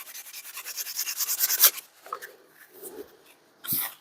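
220 grit sandpaper scuffing a vintage brass hammer, rhythmic back-and-forth rubbing strokes building in a quick series, then a few separate softer scrapes after a pause.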